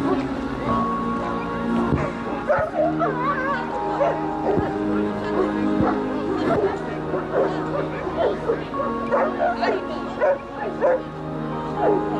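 Dogs bark and yip in short bursts amid a busy background of voices and ambient noise, the barks moderately loud and scattered through the scene.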